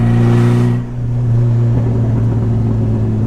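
A 1997 Mitsubishi Eclipse GSX with a swapped 6-bolt engine revs loudly up close, its low exhaust rumble dipping briefly then settling into a steady, burbling drone.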